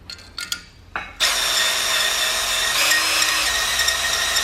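A cylinder hone with WD-40-lubricated stones spins inside the engine bore of a 1986 Chevrolet C30 dually, a few clunks giving way to a steady, loud whirring grind that runs continuously to the end.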